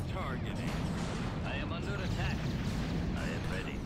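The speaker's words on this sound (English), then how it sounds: "That anti-vehicle turret sure can anti-vehicle." Anti-vehicle turret firing in Star Wars: Empire at War, a dense, continuous rumble of artillery-like blasts and battle noise filling the whole stretch, with a voice talking over it.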